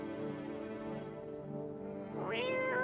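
A cat meows in a video game against a steady, droning background, with one clear, rising, wavering meow near the end. No one speaks.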